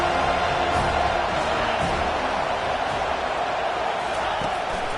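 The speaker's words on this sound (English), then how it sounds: "Man, this crowd really affecting the football game." A home crowd at a football game produces a dense, continuous roar of cheering that stays loud throughout, with a commentator's voice running underneath.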